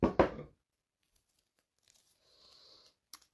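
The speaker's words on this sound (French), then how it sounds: "je prends du masking tape turquoise" Turquoise masking tape torn by hand for scrapbooking: two quick, sharp rips at the start, then near-silence broken by a faint rustle and a small click.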